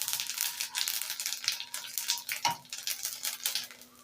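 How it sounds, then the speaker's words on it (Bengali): Cumin seeds temper in hot oil while fish is cooked for a bitter-gourd-leaf and puti fish dish. A close, crackly sizzle carries throughout, broken by a few small clinks of utensils. "জিরেটাকে ফোড়ন দিয়ে দিলাম"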